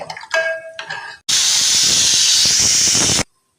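A pressure cooker on the stove during masala rice cooking gives a short burst of sputtering and a whistle, then a loud continuous steam hiss for about two seconds before cutting off abruptly.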